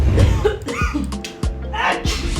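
Several sharp coughs come in quick succession, close by and fairly loud, with a bit of throat noise between them.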